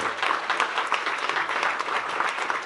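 Congregation clapping in a church during a festival service, heard as dense, steady, loud applause from a large crowd that continues without a break.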